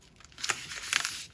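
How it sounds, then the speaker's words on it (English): A sheet of cheap white vellum paper is folded, giving two short, crisp crinkling bursts close to the microphone in a quiet room. "I'm just gonna fold a piece of this cheap white vellum"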